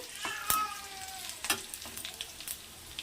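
Fenugreek leaves, curry leaves and dried red chillies fry in a pan for a spinach dal tempering, a steady close sizzle with a few stirring clicks and scrapes and no talking.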